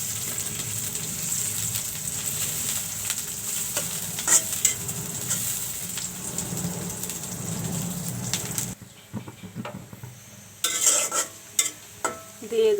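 Spices frying in mustard oil in a pan for a tomato fish curry, a steady loud sizzle with stirring scrapes for most of the stretch, then quieter with sharp intermittent spatters and utensil clinks.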